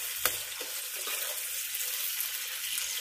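Onions frying in a pan until golden brown for mutton karahi, a steady close sizzle with occasional soft stirring scrapes and no talk.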